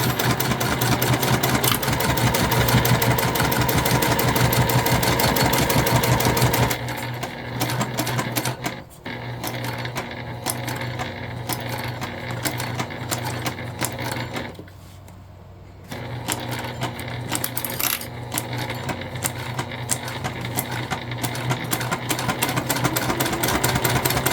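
A sewing machine stitches fabric for a convertible bag in a fast, even rhythm that runs in long bursts. It slows and pauses briefly as curves are guided, then resumes, with no talk.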